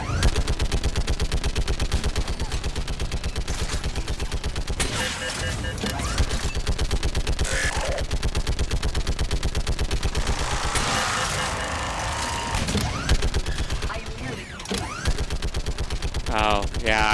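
Sustained heavy automatic gunfire from an anti-aircraft gun in the Mass Effect game, loud and continuous with dense rapid bursts, mixed with other battle noise and occasional voices.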